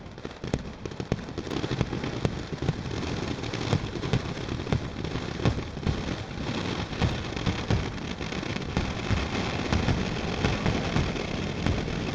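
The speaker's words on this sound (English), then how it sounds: "This is the traditional fireworks festival in Recco Sperata." Fireworks at the traditional festival in Recco crackle and pop in a dense, continuous barrage, loud and unbroken throughout, with sharp bursts scattered across the rumble.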